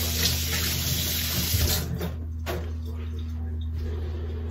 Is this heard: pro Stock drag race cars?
no